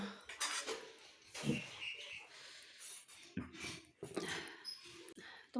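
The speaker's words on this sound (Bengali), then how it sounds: "চলো লাউটা এখন আমি একটু কাটবো" A bottle gourd being cut in a home kitchen, giving scattered knocks and scraping clicks of a knife against a board and dishes, mixed with quiet talk.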